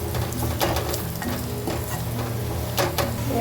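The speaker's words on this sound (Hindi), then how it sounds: "यहाँ मैं जा रही हूँ मसूर की दाल फ्राई करने के लिए" Masoor dal frying in a pan with dal makhani masala, stirred with a utensil; a continuous sizzle broken by several distinct scraping and clinking strokes, close and clear.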